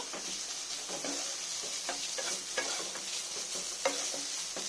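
Ridge gourd, pointed gourd and fish fry in oil while a spatula stirs them around the pan, giving a soft steady sizzle with regular scraping strokes and occasional light knocks, close and quiet, no talking.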